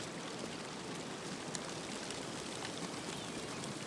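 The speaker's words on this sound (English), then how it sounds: "That's a loud waterfall, though." A loud waterfall in the video game The Long Dark gives off a steady, broadband rushing roar that stays even and unbroken throughout, with no voices.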